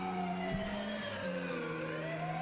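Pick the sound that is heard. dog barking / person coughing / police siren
police siren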